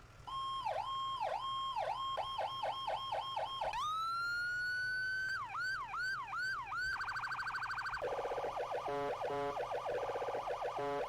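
Electronic emergency vehicle sirens from a video game cycle through several patterns: rapid yelps, a long rising wail, quick whoops and a fast warble, loud and continuous without talking.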